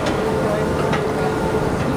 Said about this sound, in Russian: Мы въезжаем в метро.